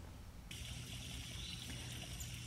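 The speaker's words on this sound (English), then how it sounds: "So here you can hear the sound of my parents' spring." Water from a natural spring trickles and splashes steadily, a continuous close hiss of flowing water that grows fuller after the first half second, with no talking.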